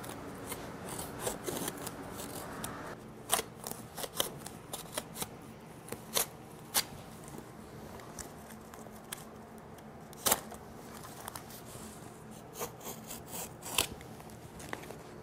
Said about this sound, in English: Use a sharp knife and trim away the excess canvas.